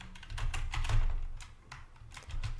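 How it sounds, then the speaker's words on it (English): Rapid keystrokes clatter on a computer keyboard as a folder name for Roblox is typed, an irregular run of close, crisp clicks with no voices. "Let's just type in Roblox."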